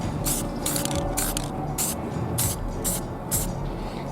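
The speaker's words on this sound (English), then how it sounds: "I did spray this roller with silver" Short repeated bursts of aerosol spray paint applying silver onto a roller, about seven hissing pulses in a steady rhythm over a constant low background hum, close and moderately loud.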